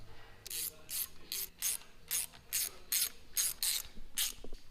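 A ratchet wrench snugs up bolts on a built Mazda 13B rotary engine for an RX7 FD, giving about a dozen short, sharp clicking pulls in an even rhythm, close and fairly quiet.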